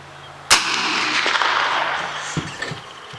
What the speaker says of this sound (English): oh, now, that's what a Mossin Nagant sounds like.